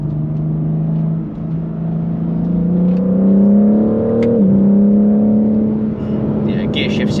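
A BMW M4 CS accelerating on the road, engine note rising steadily with a brief dip at a gear shift, then climbing again as a loud, continuous drone.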